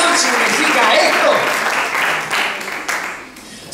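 Applause from a church congregation at a Sunday service, honoring Jesus Christ, fills the room loudly at first, with voices mixed in, then thins and tapers with a few scattered claps near the end.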